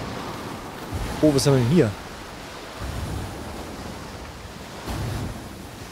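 Wind sweeps over open sea in the pirate naval game Skull and Bones, a steady broadband rush with soft surges, while someone speaks briefly near the start.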